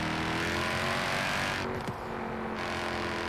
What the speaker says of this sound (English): And the backfires as well that come out of this thing.